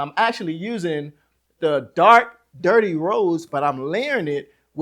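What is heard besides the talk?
No distinct noise like a dog, phone or traffic.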